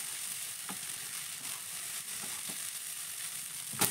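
A spatula stirs scrambled egg in a frying pan, with a steady close sizzle of frying throughout, light scraping strokes and a sharper clatter at the end.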